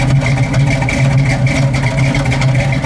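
A 1970 Pontiac Firebird with a 455 engine and dual exhaust idles steadily, with a deep, loud, continuous rumble close by and no talk.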